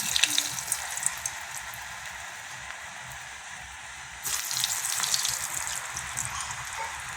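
Potato fries dropped one by one into hot oil, with a steady bubbling sizzle that swells into a louder, fuller hiss as more pieces go in.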